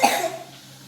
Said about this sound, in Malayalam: ചുമ വന്നുപോയി